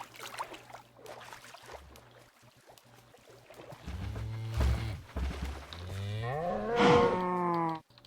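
Minecraft cows on a survival farm, several drawn-out moos rising and overlapping in the second half, fairly close and loud over quiet game ambience.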